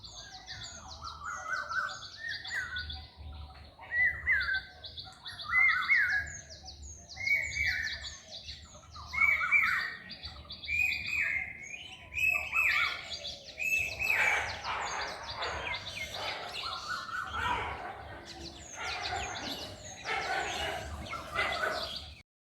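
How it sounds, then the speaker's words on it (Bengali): Birds call outdoors in a steady series of short, repeated chirps, followed by a denser jumble of mixed calls, fairly faint against quiet background hiss. "তোমরা পাখির ডাকি শোনো, আমার কথা শুনতে হবে না।"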